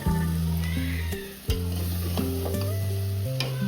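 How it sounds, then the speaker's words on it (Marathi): Dried fish is being sautéed and stirred in a pan for a traditional Konkani sukhi machhi recipe. The steady close sizzle plays under tonal background sounds, with no talking. "असं मस्तपैकी परतून घ्यायचंय."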